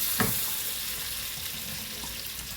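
Tempering (talimpu) for a Kerala cherupayaru coconut milk curry sizzles in hot oil, a continuous hiss at moderate volume with a small pop near the start and no speech.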